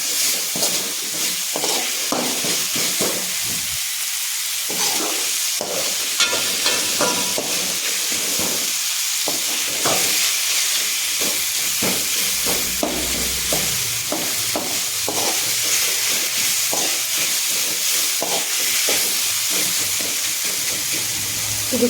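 Tomato masala fries in oil for an egg gravy with a steady, hissing sizzle throughout, broken by repeated scraping and clacking strokes of a spoon stirring the pan.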